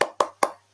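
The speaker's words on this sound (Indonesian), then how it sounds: "Kita tepuk dulu yuk biar lebih semangat." Three sharp claps in an even rhythm ring out close and clear from a primary school class clapping together to get motivated, with a short silence between each.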